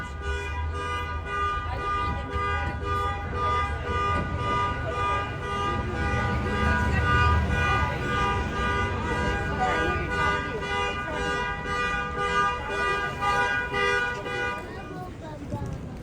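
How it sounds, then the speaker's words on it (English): Persistent car alarm with horns honking on a busy Chinatown street in New York City at night, a loud, steady repeating electronic tone running throughout amid traffic and street noise before cutting off near the end. "that alarm was bothering me"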